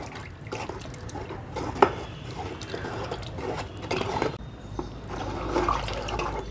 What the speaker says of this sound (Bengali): এইভাবে নাড়িয়ে দিতে হয় রোজ সকালে একবার বিকেলে একবার